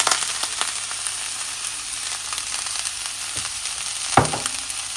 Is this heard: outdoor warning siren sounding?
no